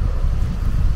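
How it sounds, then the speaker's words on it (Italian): Strong wind roars continuously across the microphone outdoors during metal detecting, making a heavy, steady low rumble with no voices. "C'è un vento forte"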